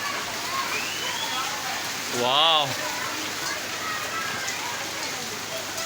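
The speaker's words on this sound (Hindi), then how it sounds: "तेज़ बारिश हो रही है।" Heavy rain pours steadily in a city neighborhood in Karachi, a dense continuous hiss throughout, while a man briefly exclaims in the middle.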